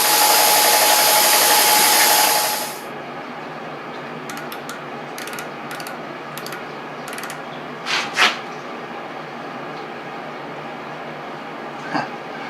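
A milling machine takes a finishing cut on a machinist vise part: a loud, even high-pitched cutting whine at first, then it drops to a steady lower machine hum with scattered light metallic clicks and taps.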